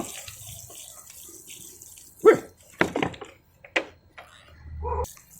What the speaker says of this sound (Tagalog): basain natin ng tubig.